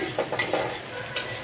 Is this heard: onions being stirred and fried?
yes